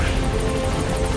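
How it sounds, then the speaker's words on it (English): A helicopter arrives for extraction in Metal Gear Solid V, its rotor producing a steady, loud, rhythmic chopping drone with a low engine rumble, continuous throughout. "get in the helicopter"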